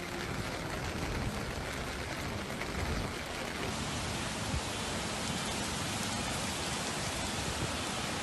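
Heavy rain pours steadily during severe flooding in the New York area, a dense, continuous downpour roaring loudly throughout with no voices.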